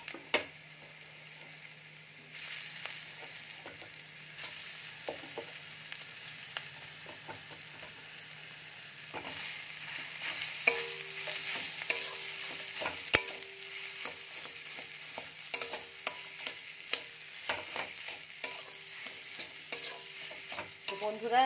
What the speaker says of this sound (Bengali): এবার মশলাটা একটু ভেজে নেব। সেদ্ধ করে রাখা আলুটা দিয়ে দেব